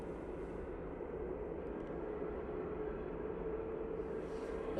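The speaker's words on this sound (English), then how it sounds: "The EasyJet to Paris has now started up" An EasyJet airliner's engines run at Manchester Airport in snowy conditions, giving a steady, faint, distant hum and whine that holds level throughout with no voices.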